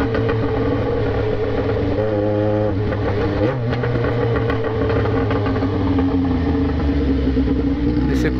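A Yamaha XJ6 motorcycle with a straight-pipe, muffler-less exhaust runs loud and close in a town centre, a continuous rough engine roar with pitch shifting as it revs, and a voice faintly under the noise.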